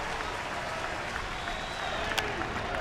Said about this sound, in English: the fans at Wrigley, who've not had a whole lot to cheer about with the Cubbies, they join the Glavine family on their feet here